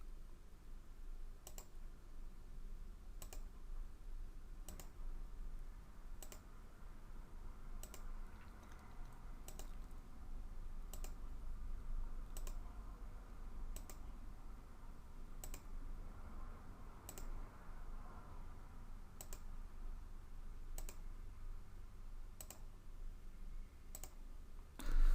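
Steady, evenly spaced single mouse clicks repeat about every second over a faint room hum while frames are tracked for a 2D collision analysis, close and crisp with no talk.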